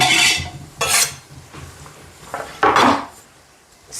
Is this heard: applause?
no